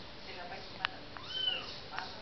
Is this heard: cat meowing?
yes